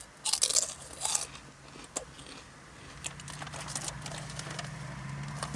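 Orion O! Tube jalapeño and cheese potato snacks crunched and chewed close to the mic, with a few sharp loud bites early, then softer steady chewing.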